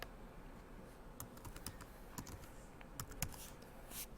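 Someone types a layer name on a computer keyboard, a quiet, steady run of light key clicks with a few sharper taps, close by and with no speech.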